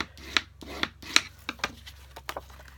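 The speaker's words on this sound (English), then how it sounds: "I'm just going to burnish the edge." The scored edge of a piece of cardstock is burnished in a series of short, close rubbing strokes, about seven in a quick uneven rhythm, with no voices present.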